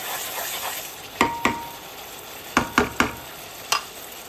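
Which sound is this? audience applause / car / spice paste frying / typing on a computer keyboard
spice paste frying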